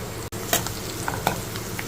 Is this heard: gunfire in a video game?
no